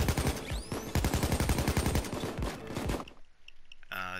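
AK rifle firing in Payday 2: a rapid automatic burst of loud, closely spaced shots for about three seconds, then a brief lull with faint clicks and a final noisy burst.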